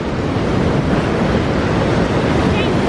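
Ocean waves wash loudly and steadily onto the shore at Glass Beach on Kauai, a continuous close roar of surf mixed with wind buffeting the microphone.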